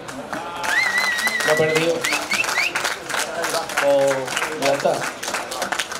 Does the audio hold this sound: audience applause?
yes